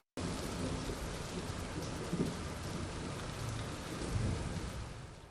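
Steady heavy rain pours down throughout, with rumbling thunder swelling twice under the downpour; no voices, just a dense, constant storm close by.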